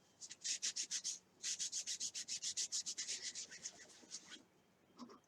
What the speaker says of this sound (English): all you have to do is just rub the chalk off of them